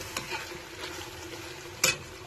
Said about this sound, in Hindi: अभी 5 मिनट के लिए हम इसको अच्छी तरह भूनेंगे।